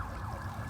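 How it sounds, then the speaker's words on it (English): Sirens on a street in Hollywood near Sunset Boulevard wail faintly in the distance, a soft wavering tone over low traffic rumble. "nice silent sirens here in Hollywood"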